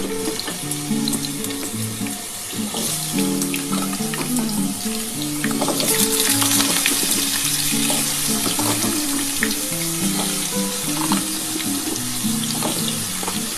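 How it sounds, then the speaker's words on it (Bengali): Potato pieces frying in hot oil in a home kitchen, a steady wet sizzle and crackle running continuously, with occasional clinks and stirring knocks, no voices. "আমার তেলটা গরম হয়ে গেছে, আমি এবার আলুটা দিয়ে দেবো।"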